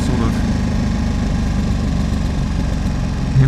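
Ducati 1299 Superleggera motorcycle engine cruising at low speed through a speed-humped suburban town in Hampshire, a steady loud rumbling drone with constant wind, while someone talks over it.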